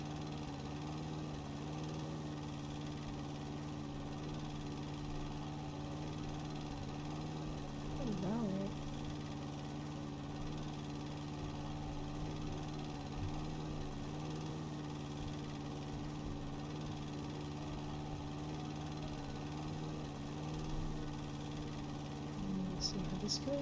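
A lawn mower in the House & Garden Flipper game drones at an even, moderate level while mowing around trees, its hum steady with slight shifts in pitch and speech faintly beneath.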